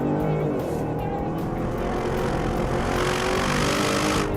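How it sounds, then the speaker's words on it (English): A 2014 Bentley Continental GT V8 S accelerates hard on a racetrack, a dense, roaring exhaust bellow from its four pipes holding steady and loud throughout, heard from up close. "refined, yet bellowing from those 4 exhaust pipes"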